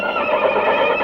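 A horse lets out a loud, close whinny lasting about a second, a strained wavering call that fills the whole clip.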